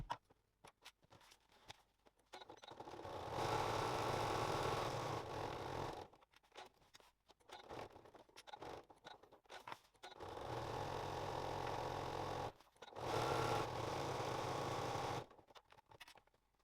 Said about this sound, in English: we'll stitch a box or a cross across this end piece just to secure that webbing underneath nice and firmly